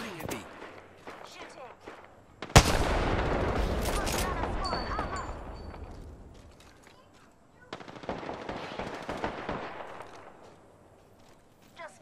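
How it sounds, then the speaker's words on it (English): Sustained automatic gunfire erupts in an Apex Legends match, a sudden loud burst followed by a dense rattling stream that fades, then another volley, with someone talking faintly in between. "The enemies are shooting at me."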